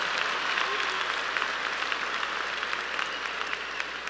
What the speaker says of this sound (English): let's give them one round of applause for a great gift